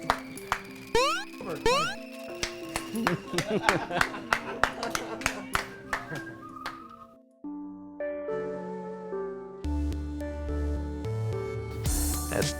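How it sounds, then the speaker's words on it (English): A slow clap begins with evenly spaced hand claps that gradually quicken, set against ringing musical tones, before music alone takes over. "You do a slow clap."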